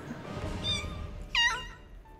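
Two short cat meows from a VR video game, one soft and one louder and higher, over a quiet murmuring background.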